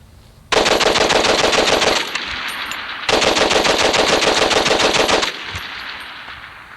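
Vickers machine gun firing two loud, close sustained bursts of rapid evenly spaced shots, each about one and a half to two seconds long with a brief pause between them, followed by ringing echo.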